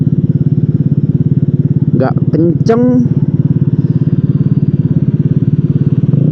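A small Vespa S125 scooter engine putters steadily with a pulsing idle-like rhythm throughout as it accelerates, while someone briefly speaks over it partway through.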